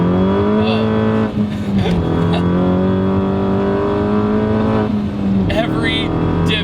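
Turbocharged Mini Cooper S engine revving through gears, a loud sustained drone with pitch rising and dropping across shifts and brief crackles near the end, heard from inside the car with no speech over it.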